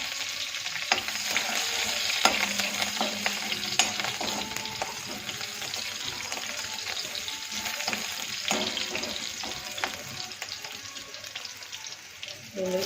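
Curry leaves sizzle and crackle steadily in hot oil with cumin, garlic and green chillies, with scattered spatula scrapes and light stirring clatter over a continuous frying hiss close up.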